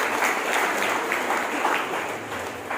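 Loud, dense audience applause fills a church gathering, a steady wash of many hands clapping at once that holds at an even level throughout without breaking.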